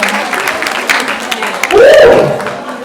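An audience at a young engineers program event gives a short burst of applause, a dense patter of claps mixed with talking, while a voice rises over it near the end.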